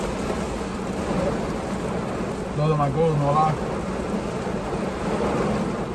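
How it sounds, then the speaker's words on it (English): Steady rain falls outside, a constant loud wash running through the whole stretch, while a person talks over it and a brief rumble rises near the middle. "It's raining."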